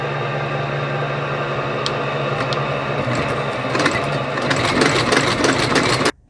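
Rapid E stitching machine sewing a shoe with linen thread, a steady close mechanical hum and whir with a rapid repetitive clatter of stitches building toward the end, then stopping abruptly.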